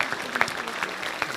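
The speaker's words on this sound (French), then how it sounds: "je crois qu'on peut applaudir Serge Duterque et les associations qu'il préside pour son action" A short burst of audience applause at a mayor's New Year address to residents, dense clapping throughout.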